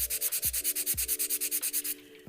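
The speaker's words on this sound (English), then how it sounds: "So I'm just going to do my usual filing routine, which is side walls." A nail file rasps along fingernail side walls in quick, even back-and-forth strokes, about eight per second, close and crisp, running steadily for two seconds before stopping.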